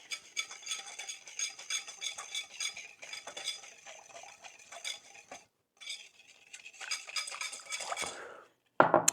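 A utensil stirs a bourbon BBQ rib marinade in a bowl, making close, busy clinks and scrapes that pause briefly midway and end with a sharper knock.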